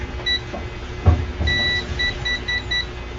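Intermittent electronic beeps from a continuity tester buzzer tracing a computer outlet's wiring, short and repeated in an uneven rhythm, over a low background hum with a couple of soft thuds.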